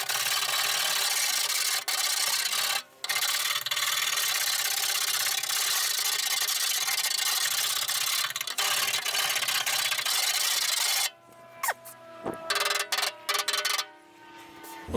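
Rust is scraped and rubbed off a Nissan Sunny boot lid in a continuous harsh, close scratching with a few brief breaks. The scraping then gives way to sparse knocks and quieter handling sounds, with no talking.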